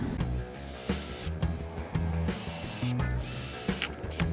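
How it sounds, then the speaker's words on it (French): A power driver whirs and ratchets close by while screws are driven into counterweight boards on a wooden target easel, with a steady buzzing drone broken by short pauses and changes in pitch. "ensuite je vais visser sur les planches de contrepoids"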